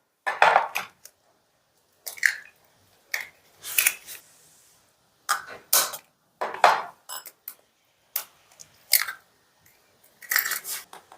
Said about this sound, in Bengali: ডিমটা ফাটিয়ে নিচ্ছি।